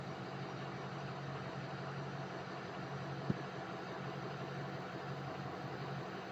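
A project truck's engine idling while parked, a steady low rumbling hum with no change in pitch and one faint click partway through.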